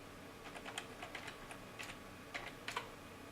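A password is keyed in on a computer keyboard at the login of a remote desktop session. Soft, irregular key clicks come in small quick bursts, close and quiet, with no voices.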